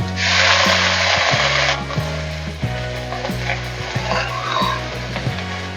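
Onion and mint sautéing in a pan give a loud, steady sizzle, with a sharp hissing burst at the start and a rhythmic mechanical whirring running underneath throughout.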